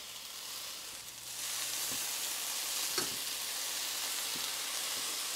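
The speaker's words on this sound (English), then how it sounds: "Let's add in our lentils now to our pan." Cooked, strained lentils tipped into a hot pan, setting off a steady sizzling hiss that swells after a soft clatter and carries on evenly, with an occasional faint scrape.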